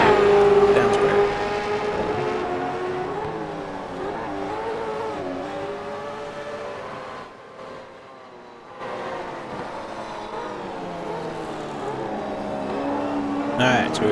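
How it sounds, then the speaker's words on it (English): A race car engine in the iRacing simulator drones and revs continuously, the pitch rising and falling through gear changes, briefly dropping away near the middle before picking back up loud and close. "But it's a fine looking car. Sounds great."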